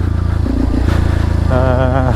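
A motorcycle being ridden, its engine loud and close with a throbbing, rattling note that rises as it revs, while someone talks over it.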